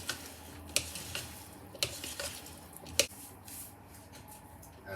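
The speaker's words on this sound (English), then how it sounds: "Mix it up." Potato salad with salt and black pepper being stirred and mixed in a bowl, soft squishing strokes broken by a few sharp clinks of a utensil against the dish, close and fairly quiet.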